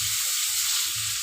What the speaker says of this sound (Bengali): হলুদ দিয়ে দিলাম 1 চামচ, দিয়ে আমি হালকা একটু ভেজে নেব।